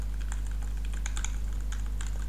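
Computer keyboard keys, arrow keys held with control, are pressed in a quick, irregular run of crisp clicks over a constant low hum, close to the microphone, with no speech.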